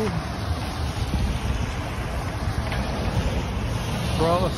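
A boat crossing the Hudson River gives a steady, loud rumble of engine and water with wind buffeting the microphone throughout, and a brief higher tone near the end.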